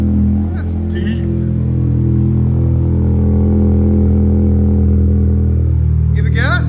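Deep, steady exhaust drone from a 2023 Toyota Camry SE 2.5L running a Magnaflow Magnapack with the muffler deleted, idling loud and close before a quick rev swells near the end.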